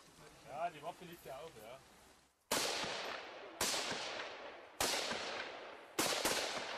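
A voice speaks briefly in German, then four loud rifle shots ring out at a military shooting range at steady intervals of about a second, each with a sharp crack and echoing tail.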